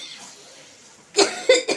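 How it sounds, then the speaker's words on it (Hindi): Person coughs three times in quick succession near the end, loud and close, after a quiet stretch of faint kitchen background. "खांसी आ गई"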